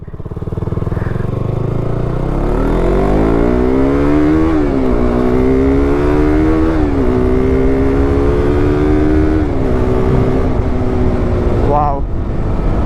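A loud, modified KTM RC200 motorcycle engine revs up close, its pitch climbing in several stepped surges through the gears before dropping away at the end.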